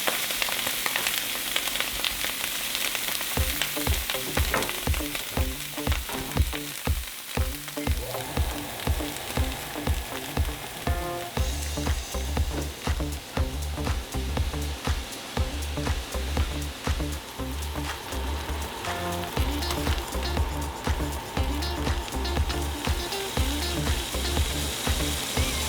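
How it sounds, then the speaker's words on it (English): Sous vide duck breast searing skin side down in a hot pan, a dense crackling, spitting sizzle of rendering fat that carries on loudly and without a break, with no one speaking. "hot pan, skin side down, so I'll cook in that fat and get all those flavors out"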